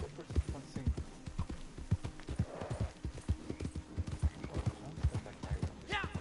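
Horse hooves clip-clop in a steady walking rhythm within a video game, with a faint whinny near the end and soft voices talking underneath.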